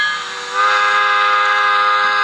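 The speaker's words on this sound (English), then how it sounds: "Function 2 is a whistle." A model Mikado steam locomotive's sound unit blows a steam whistle: a brief softer start, then a loud, sustained, breathy multi-tone whistle held steadily to the end, close and alone.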